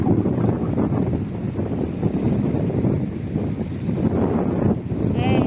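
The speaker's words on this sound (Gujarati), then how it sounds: "પવનનો અવાજ આવતો હશે." Heavy wind buffeting a microphone, a constant low rumbling roar that swells and dips, with faint voices partly buried underneath.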